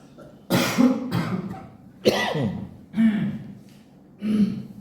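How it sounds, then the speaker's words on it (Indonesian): Several loud, harsh coughs in separate bursts, close up, with short pauses between them. "Mari batuk bersama."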